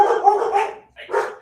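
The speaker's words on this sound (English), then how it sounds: "There's some of the dogs." Several dogs bark in a loud, close burst of overlapping barks and yips, pause briefly, then break into another short round of barking.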